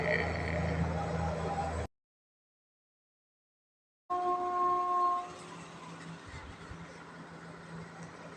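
A passenger train rumbles past and sounds its horn with sustained tonal blasts, while people talk nearby; the sound cuts out briefly to silence midway.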